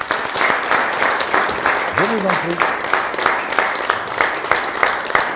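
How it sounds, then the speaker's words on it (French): An audience at a talk on smart cities and technology applauds steadily, a dense wash of clapping throughout at moderate distance, while someone speaks briefly over it. "on peut vous applaudir"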